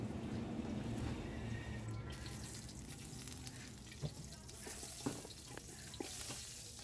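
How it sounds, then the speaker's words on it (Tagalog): Garlic and onion fry in a pan for a lechon head paksiw, a steady crackling sizzle with occasional stirring clicks and scrapes, close and moderately loud, with no talking. "Ilagay na natin tong bawang. At isunod natin tong sibuyas."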